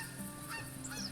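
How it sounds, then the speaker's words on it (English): A small flock of six geese honking repeatedly as they fly overhead toward the listener, their calls fairly faint and distant over a steady outdoor background hum. "that's a nice looking group of geese flying right at me"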